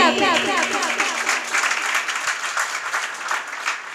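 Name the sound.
audience applause and clapping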